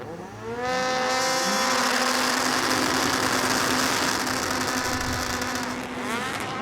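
Several rallycross car engines in a video game rev loudly together on the starting grid, rising and holding at a high pitch with a steady roaring drone before easing slightly near the end.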